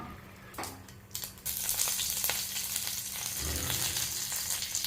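Oil sizzles and crackles steadily in a hot pan, a dense hiss that swells after a soft start and carries on without talk.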